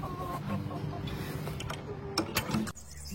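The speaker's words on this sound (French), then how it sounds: "Je vais vous présenter mes petites poulettes." Hens cluck in a henhouse amid constant rustling and mechanical clattering, with a few sharper clucks standing out near the end.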